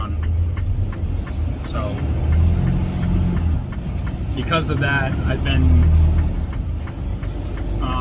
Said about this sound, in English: the truck's been running a lot more often than it needs to